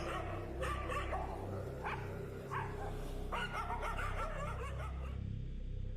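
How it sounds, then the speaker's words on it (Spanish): Dogs bark repeatedly along a rural road at night, stirred up by a pair of bulls walking past; several sharp barks and yips stand out over a steady background hum. "El ladrido de los perros alborotados por mi par de toros caminando eran mi única compañía."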